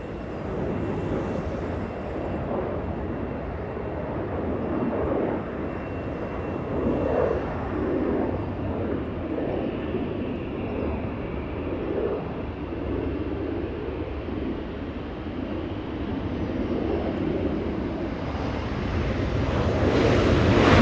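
An airplane arriving at Los Angeles International Airport gives off a steady, broad engine roar with wind-like rush, holding fairly even before growing louder as it draws closer near the end.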